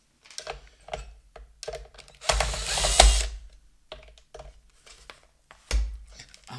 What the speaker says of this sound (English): let's try to see if we can remove those screws here.